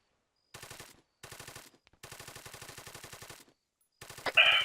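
Machine gun suppressing fire in Arma 3, several sustained rapid bursts separated by short pauses, steady rhythmic rattling with a louder impact near the end.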